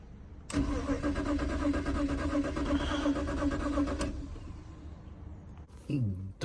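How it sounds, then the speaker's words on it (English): A BMW 325i starter grinds steadily for several seconds with a whirring, rhythmic churn, then cuts off without the engine catching; a brief voice follows. "if you crank it and it doesn't want to turn on, but it makes a noise"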